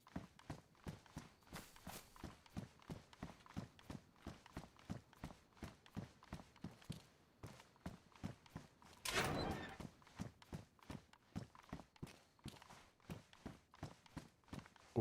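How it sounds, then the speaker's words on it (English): Rapid, even footsteps run across ground in DayZ Chernarus, a continuous quick rhythm of close thuds lasting throughout, broken midway by a short burst of rushing noise. "Thought I heard footsteps."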